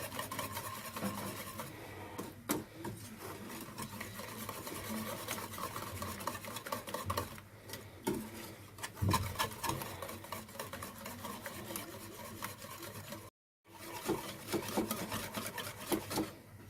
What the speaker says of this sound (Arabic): بمسك البيض مع الدقيق مع البيكنج باودر وكل التوابل اللي انا حطيتها وبقلبهم تقليبه كويسه جدا